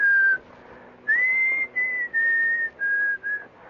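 A person whistles a clear, bright tune alone, in a series of sustained notes with short breaks between phrases.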